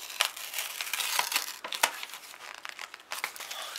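Taped paper envelope ripped open by hand, a run of close crinkling and tearing bursts with sharp rips, paper handling alone without speech.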